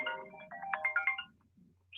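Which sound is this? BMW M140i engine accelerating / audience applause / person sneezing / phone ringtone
phone ringtone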